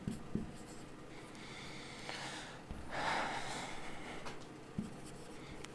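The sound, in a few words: writing out a definition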